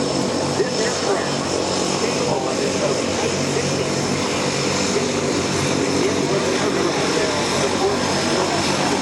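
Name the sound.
MiG-17 jet aircraft flying at air show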